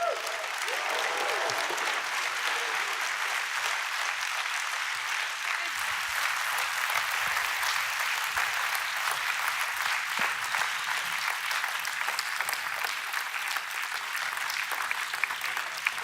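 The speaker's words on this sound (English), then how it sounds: "I'm just going to leave you the applause" Sustained audience applause following a speech at an industry conference, a dense, steady clapping from a large crowd that continues evenly throughout.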